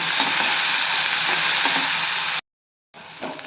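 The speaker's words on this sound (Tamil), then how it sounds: "சின்ன வெங்காயம் நல்லா வதக்கிக்கலாம்" Chopped shallots sizzle and crackle steadily in a hot pan, then cut out abruptly before a quieter sizzle returns.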